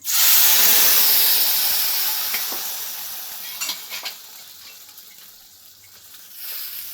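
Ground coriander, pepper and cashew paste sizzles as it fries in a pan for egg gravy, a loud steady hiss that slowly fades, with a few stirring clicks partway through and a brief louder burst of sizzle at the end.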